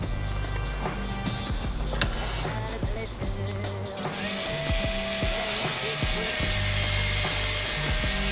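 A power drill driving screws into a car dashboard while fitting USB ports, short whirring and ratcheting bursts with clicks, close and moderately loud over a steady background drone.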